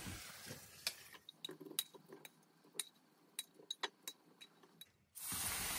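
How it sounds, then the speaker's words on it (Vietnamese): Meat stir-frying in a pan, heard as a run of sharp clicking scrapes and light sizzle taps at close range, ending in a louder burst of hissing. "Bây giờ mình cho vào mình xào qua."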